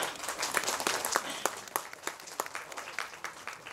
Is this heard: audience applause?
yes